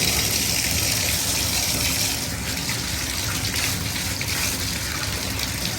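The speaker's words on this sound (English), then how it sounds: "okay, I hear the water" Tap water gushes steadily into a tub for a sulcata tortoise's bath, a loud, continuous close rush that eases slightly partway through.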